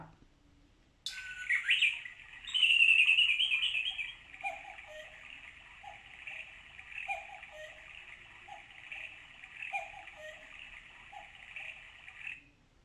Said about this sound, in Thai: มาคอยชมนะครับว่า เสียงนกจะเป็นยังไงเมื่อครบชั่วโมงนะครับ